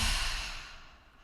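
A single slow, deep exhale during a breathing exercise, soft and close, fading gradually to quiet.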